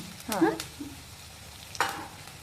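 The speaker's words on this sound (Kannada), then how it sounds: "ಬೆಳ್ಳುಳ್ಳಿ ಹಾಕೊಂಡು ಈಗ ಕರಿಬೇವನು ಹಾಕ್ತೀನಿ" Garlic and curry leaves tossed into hot oil give a short burst of sizzle and stirring near the start, then a second sputter near the end as they fry, with no one talking.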